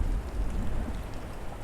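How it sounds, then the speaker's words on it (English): Rain in the video game This War of Mine falls as a steady patter with a low rumbling undertone, moderately loud and with no one talking. "I think it's raining."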